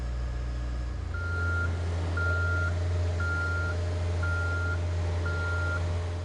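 A boom lift drives along with its engine humming low and steady while the travel alarm beeps at a regular pace, five even tones about a second apart, loud and close, with no talking.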